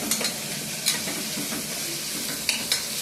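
Whole spices, curry leaves and green chillies hit hot oil in a pan, giving a steady close sizzle with a few sharp crackles and stirring scrapes, no voices.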